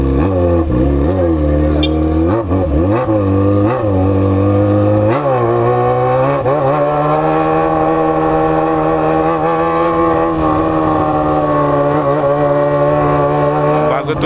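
A loud motorcycle engine crawling in first gear at about 20 km/h, with a steady low drone that rises and dips in short throttle blips before settling into a sustained hum, close to the rider.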